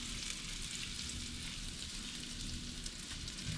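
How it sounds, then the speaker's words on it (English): Seafood egg rolls frying in hot oil give a steady, dense sizzle that stays even and unbroken throughout, heard close and fairly quiet. "That means the oil is coming out of there and it's cooking, cooking through."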